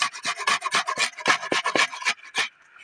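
Raw onions are rubbed hard against a hand grater, a run of quick, close, rasping strokes in an even rhythm that stops abruptly near the end, with no talking.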